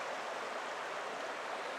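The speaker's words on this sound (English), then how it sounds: "that little creek dumps into the Chetco River" A small creek in coastal redwood forest along Oregon's Chetco River flows as a steady, close, even rush of water with no voices.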